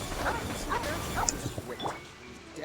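A dog in the Genshin Impact video game gives a few short, fairly faint yips and barks spread across a couple of seconds.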